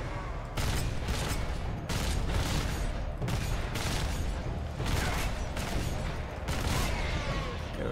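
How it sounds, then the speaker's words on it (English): A heavy bolter in the Space Marine video game fires short, loud bursts, about six evenly spaced volleys of rapid booming shots with brief gaps between them. "Heavy bolter is not the most accurate weapon in the game. But short bursts"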